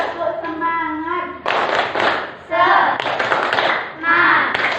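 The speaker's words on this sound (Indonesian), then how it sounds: "sebelum mengerjakan tepuk tangan dulu. Ya, kalian tepuk semangat." Students in a classroom clap their hands energetically in several short, lively bursts, close and loud, with a teacher's voice and children's chatter woven between the rounds of clapping.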